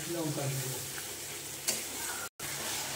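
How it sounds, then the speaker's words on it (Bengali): A spice paste of yogurt with cumin, coriander, fennel and chili powder fries gently in a pan for dhaba-style chicken do pyaza. Faint, steady sizzling runs under a few soft stirring scrapes, cut by a short silent gap. "এবার বন্ধুরা এই পেস্টটা দিয়ে ভালো মতন কষে নেব।"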